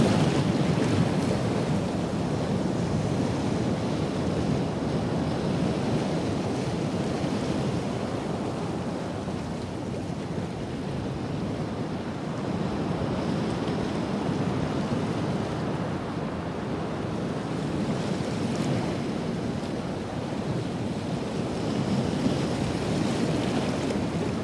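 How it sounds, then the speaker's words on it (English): Waves wash steadily along a seaside shore in a broad stereo ambience, with wind blowing over a constant soft roar of surf; the scene stays even and fairly quiet throughout, with no voices. "It's a stereo ambient seaside background."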